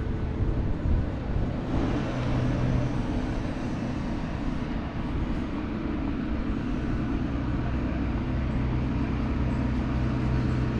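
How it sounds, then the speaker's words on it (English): A steady, loud low rumble of a San Francisco Muni N Judah light rail train rolling by nearby, holding constant for several seconds with no talking. "This here is the N Judith train."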